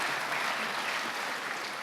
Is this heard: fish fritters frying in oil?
no